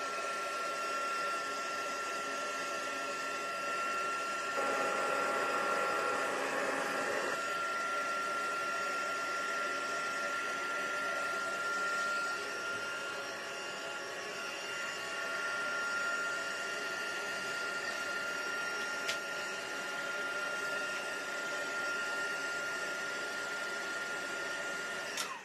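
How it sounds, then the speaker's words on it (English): A heat tool blows to dry white ink on a stamped craft piece, giving a steady close whirring hiss that runs for the whole stretch and swells briefly partway through. "give that a little bit of a blast just to dry it"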